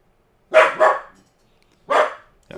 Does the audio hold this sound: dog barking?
yes